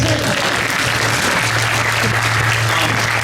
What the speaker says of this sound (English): I'll applaud that, yes.